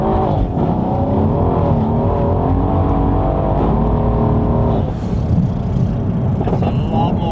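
An 800 BHP Mercedes C63s saloon accelerates hard on boost, its loud, dense engine roar rising in pitch through a gear, then dropping at a shift near the end, heard from close range.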